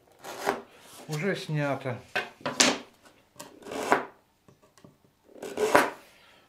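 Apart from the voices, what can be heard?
sanding with coarse 16-grit sandpaper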